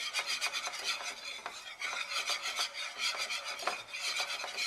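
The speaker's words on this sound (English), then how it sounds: "keep stirring it." A spoon scrapes and rubs steadily against a pan while Lobster Newburg sauce is stirred, a continuous rasping swish in a quick repeating rhythm, close and fairly quiet, with no talking.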